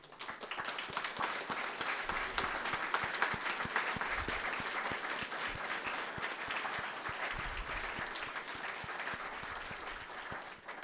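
An audience at a military retirement ceremony for the 59th Medical Wing claps for the ceremony helpers: a soft, somewhat distant round of individual claps blending into a steady, sustained applause.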